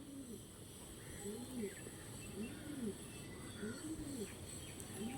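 A Lambadi pigeon cooing in soft repeated rising-and-falling calls against a steady background hum.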